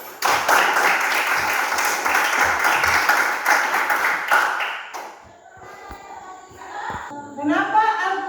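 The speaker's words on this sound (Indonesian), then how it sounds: "Berikan aplaus" Audience applause at a university teacher-training presentation, a dense burst of clapping for about five seconds that thins out into scattered claps, with a voice and soft talking afterward.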